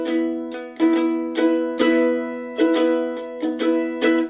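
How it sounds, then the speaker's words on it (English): A mandolin strums the chords of a song in a two-bar pattern of sharp down and up strokes, close and clear, with short gaps between groups. "Now this is not a natural rhythm for sort of bluegrass mandolin players"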